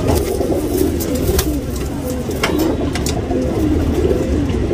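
A tournament racing pigeon, a flyer and breeder bird, coos in steady low rolling notes close by, with sharp clicks and a faint engine rumble underneath.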